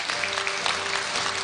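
Graduates and guests at a Korea University degree ceremony clap in a dense, steady burst of applause that fills a large hall, brief and uniform without voices.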